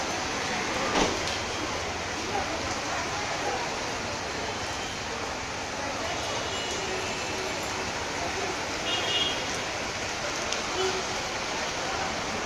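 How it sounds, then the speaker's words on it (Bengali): Heavy rain pours steadily on a city street in Zindabazar, Sylhet, a dense, even hiss lasting throughout. A couple of faint clanks break through, and a voice is faintly audible beneath. "মুষলধারে বৃষ্টি হচ্ছে।"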